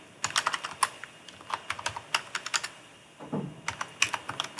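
Keys clatter on a computer keyboard in quick, uneven bursts of clicks, with a brief pause and a softer thud before the typing resumes, up close and without speech.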